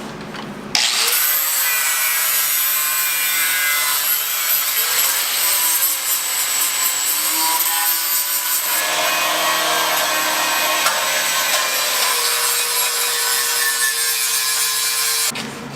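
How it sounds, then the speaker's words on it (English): Grinding on a turbo LS-swapped Mustang's radiator area to cut a notch for the radiator cap, a loud continuous abrasive whine that runs steadily for about fifteen seconds without speech. "Right here for the cap a little bit, we need to grind that out a bit."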